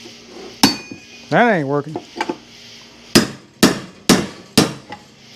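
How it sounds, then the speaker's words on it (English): A cold chisel struck by a hammer against the lower control arm bushing of a 1971 Cadillac Coupe DeVille, sharp metallic blows with a screechy scrape early on, then four evenly spaced loud strikes, with someone briefly talking. "Let's get a bigger cold chisel here."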